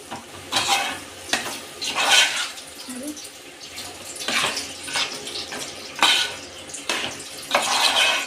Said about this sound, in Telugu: ఇప్పుడు అంతా కలిపేసుకోవాలి